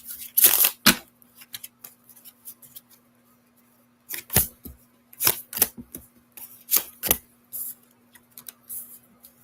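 Oracle cards are shuffled by hand in several quick bursts of crisp riffling and slapping, close and dry against a quiet room, with pauses between shuffles.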